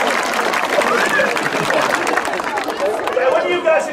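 A crowd applauds at a sea lion show at Flamingo Land, a dense, steady patter of many hands that stays loud throughout while a presenter talks over it.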